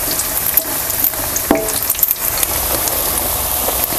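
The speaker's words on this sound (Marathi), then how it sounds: "किती बसते तेवढं सोडायचं आणि चांगलं असं तळून घ्यायचं" Bread pakoda pieces frying in hot oil give a loud, steady crackling sizzle, broken by a few scraping stirs and light clinks close by.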